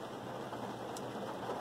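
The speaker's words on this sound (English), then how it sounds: "it is raining" Steady rain drums on the roof of a van, heard from inside as a dense, even patter with no breaks and no voices.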